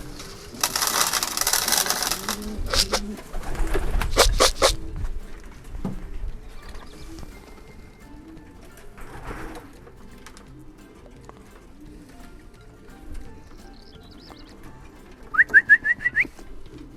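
Racing pigeons feeding on competition grain mix, with a burst of broadband pecking and crunching early on, then quieter shuffling and soft bird calls, and a few sharp high chirps near the end.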